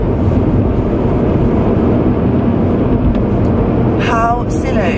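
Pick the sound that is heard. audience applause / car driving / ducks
car driving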